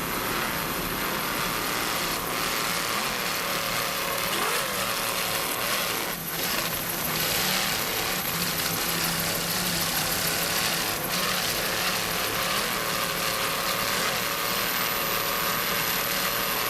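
A 38-foot Fountain racing powerboat's engines drone steadily at an offshore powerboat world championship race in Key West, a constant loud roar with no clear pauses.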